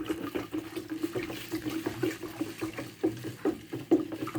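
Water poured from a container over pickles being made with purple cabbage, a soft, fairly faint trickling and splashing with small irregular gurgles throughout.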